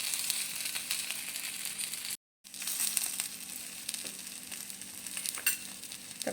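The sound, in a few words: semolina-coated bread frying on a tawa griddle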